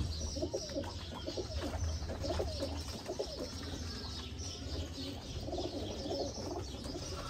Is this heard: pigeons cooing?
yes